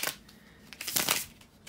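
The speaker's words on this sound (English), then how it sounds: "bear with me a second, guys, to shuffle the tarot cards" Tarot cards riffle and slide against each other in quick soft bursts, a brief, close and quiet shuffle.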